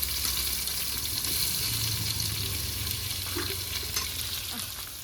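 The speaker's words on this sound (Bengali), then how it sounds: "তেলটা আমার ভালো করে গরম হয়ে গেছে। এবারে পেঁয়াজগুলো দিয়ে দেবো কেটে রাখা।" Chopped onions frying in hot oil in a home kitchen, a steady loud sizzle filling the whole stretch with occasional stirring scrapes, no talk.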